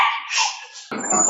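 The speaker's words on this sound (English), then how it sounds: "Oh, these are the dogs." Dogs bark close by in a home, sharp yapping barks and whimpering cries that run together in a short loud burst.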